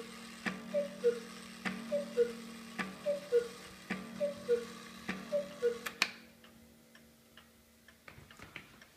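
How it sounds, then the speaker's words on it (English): A large carved eight-day shelf cuckoo clock ticks in a steady, even rhythm for about six seconds, then stops with a sharp click, leaving faint scattered knocks. "I will set the clock off so you can hear it in action"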